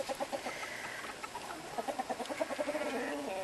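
Chickens cluck close by in a farmyard at feeding time, a busy stream of short rhythmic clucks and chatter that grows denser toward the end.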